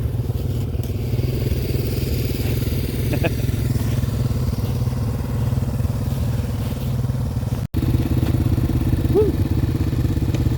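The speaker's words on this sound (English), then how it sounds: "Bikes are working awesome on the ice." A Yamaha TW200 motorcycle fitted with ice studs rides on a frozen surface at night, its steady close single-cylinder engine drone running throughout with a brief dropout near the end before resuming.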